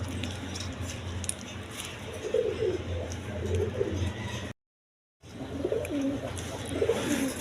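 Lotan pigeons coo softly in a low, burbling rhythm amid a noisy background, with a brief silent gap midway.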